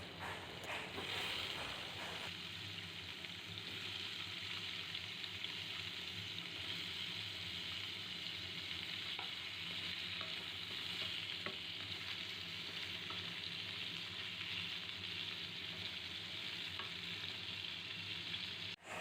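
Turnip pieces fry and get stirred in a pan, giving a continuous loud sizzle with scraping and clinking of the spoon against the pan throughout, no voices.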